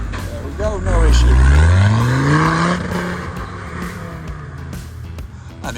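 An off-road vehicle drives into mud, its engine revving up loudly and then settling to a lower drone, close by and with no one speaking.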